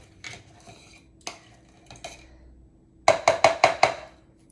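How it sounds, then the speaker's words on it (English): Limes and raw sugar muddled in a glass for a caipirinha: a few soft knocks early on, then a quick run of five sharp, close clinking taps of the muddler against the glass. "I'm going to gently kind of muddle these as well."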